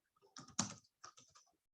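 Several quick keystrokes on a computer keyboard, close and distinct clicks in an otherwise quiet room.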